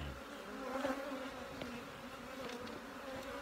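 Honeybees swarm around an open hive during an inspection, a dense continuous buzz close by with shifting intensity and a few sharper passes of individual bees.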